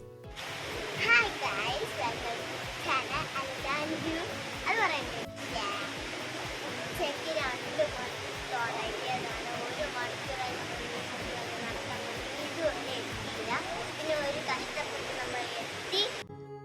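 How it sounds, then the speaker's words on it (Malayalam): A forest waterfall near a river in Kallar, Thiruvananthapuram, gives a steady broad rush of falling water. Birds chirp faintly, and people talk intermittently over it. "വെള്ളത്തിൻ്റെയും ബേഡ്സിൻ്റെയും ഒക്കെ സൗണ്ടൊക്കെ കേട്ടുകൊണ്ട്"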